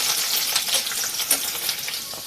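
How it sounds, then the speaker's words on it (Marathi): Chopped garlic spits and crackles in heated oil for a methi bhaji, a busy, close, bright frying hiss with quick popping bursts throughout and nobody talking. "तेल गरम झाल्यानंतर त्यात कट केलेला लसूण घातला. लसूण चांगला तडतडू दिला."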